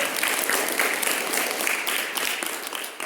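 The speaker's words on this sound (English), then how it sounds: "Let's give her a applause." An audience at a school Industriousness Day claps for a hard-working student, a full steady round of applause that holds strong and tapers slightly toward the end.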